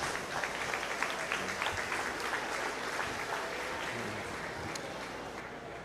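Steady audience applause fills the arena after a beef showmanship class, a broad wash of many hands clapping that holds evenly for several seconds and tapers slightly at the end.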